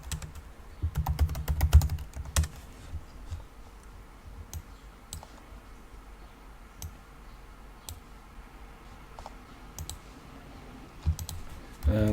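Quick clicky keystrokes sound up close on a computer keyboard while a terminal command is entered, with a dense burst of typing early on and then scattered single clicks and a final key press.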